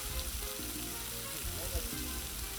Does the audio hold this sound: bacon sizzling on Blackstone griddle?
yes